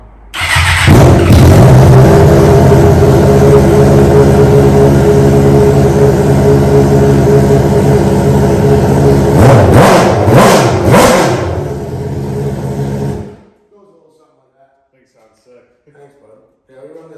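An unmuffled drag race engine with a drag series exhaust fires up close and loud, holding a harsh, roaring idle before a burst of sharp revs around ten seconds, then cuts off abruptly, leaving near silence with faint sounds.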